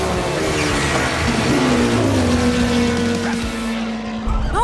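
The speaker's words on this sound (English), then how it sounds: "Motorcycle mode." Chase's vehicle in motorcycle mode from the PAW Patrol cartoon revs and speeds away with a high tire squeal and a rising engine whine, loud and close, backed by busy cartoon music.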